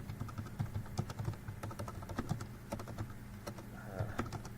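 Quick typing of an address on a computer keyboard, a steady patter of close, crisp key clicks with uneven rhythm and no talk.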